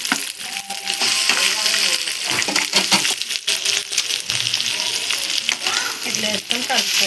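Ivy gourd chutney is mixed in a pan, a loud dense crackle and sizzle with continuous close metallic scraping and clinking of a spatula throughout, without speech.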